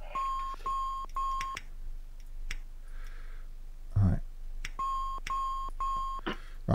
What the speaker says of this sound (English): And it's now beeping at me.